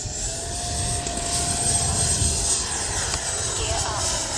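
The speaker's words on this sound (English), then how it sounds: "We're going to take off in the grass." A Freewing Avanti S V2 RC jet taking off from a rough grass runway, a steady whining ducted-fan roar building loudly and close, with someone talking over it.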